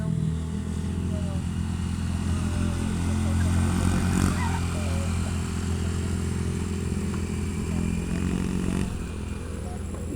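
A motorcycle engine drones steadily along a straight road, a constant low hum that stays close and even throughout with little change in pace.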